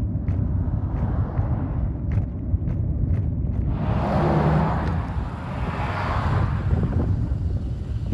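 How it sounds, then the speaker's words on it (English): Vehicles stream past on a coastal highway, a continuous low rumble with wind buffeting the microphone and a louder whoosh as one passes close midway. "the traffic is a constant stream of vehicles"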